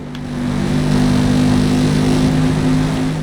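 A 2018 TVR Griffith engine in Forza Motorsport, a loud, steady droning rev with a strong low tone, swelling in over the first half second and holding evenly before easing slightly at the end.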